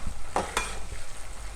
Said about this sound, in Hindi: भिंडी को आपने इतना फ्राई करना है कि इसका कलर जो है वो